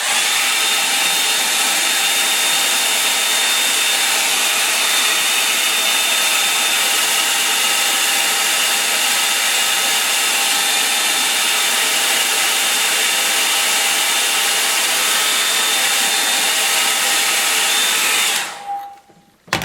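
A hair dryer blows steadily on wet paint for a painted winter scene, a loud continuous broadband whoosh with a faint whine, cutting off abruptly near the end.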